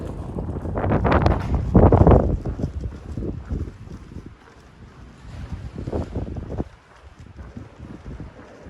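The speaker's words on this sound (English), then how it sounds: "Hope this wind dies." Strong wind gusting across a microphone out on a long walking trail at sunrise, a loud buffeting roar that swells, fades, then surges again.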